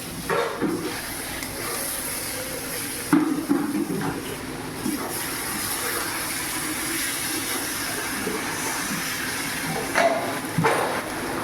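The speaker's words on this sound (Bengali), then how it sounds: "এখানে একটু অল্প পরিমাণে জল দিয়ে দেবো।" Water poured into a hot pan of semolina with ghee and dried fenugreek leaves gives a steady, loud steam hiss lasting throughout, with brief louder bursts of sizzle and bubbling near the start and again toward the end.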